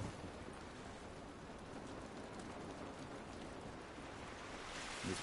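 Steady rain pours down outdoors, a dense, even hiss of drops hitting surfaces, faint and continuous with no voices.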